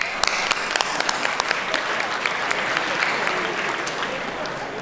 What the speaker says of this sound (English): we would just like a round of applause for all the nominees in this category